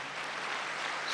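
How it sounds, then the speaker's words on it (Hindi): A seated audience at a spiritual class gives a brief, dense round of clapping, steady and moderately distant, over about a second. "ताली बजाओ ना।"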